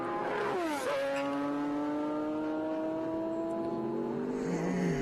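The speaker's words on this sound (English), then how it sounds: "Got a few extra legs as they head up the back straight, though, the Porsches." Historic Porsche race cars accelerate up the back straight at a festival-of-speed meeting at Winton, several engines roaring loudly together with rising and falling pitch as they sweep past.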